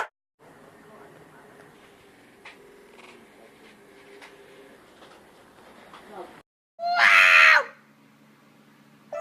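A cat lets out one loud, drawn-out meow that stands out clearly after a stretch of quiet indoor background hum.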